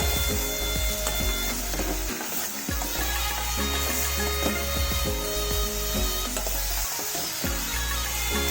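Mushrooms fry in butter with a steady, dense sizzle, broken by scraping and stirring clatter from a spoon against the pan, close and continuous.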